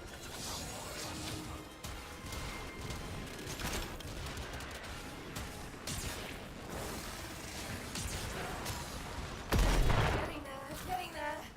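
Rapid gunfire bursts from the shooter game Warframe, dense and continuous with a heavier impact near the end, layered over busy game effects.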